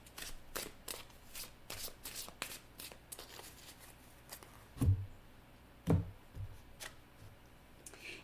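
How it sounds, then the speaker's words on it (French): Playing cards handled during a card reading, giving a run of soft papery flicks and shuffling riffles, then a couple of louder close taps and slaps of a card being pulled from the deck. "Je vais maintenant aller chercher une carte"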